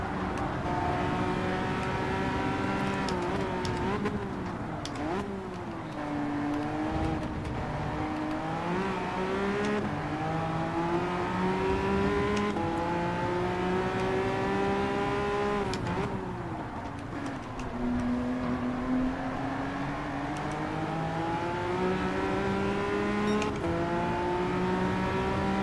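Race car engines from the Daytona arcade racing game drone continuously at a steady loud level, their pitch sweeping up and down through gear changes and acceleration.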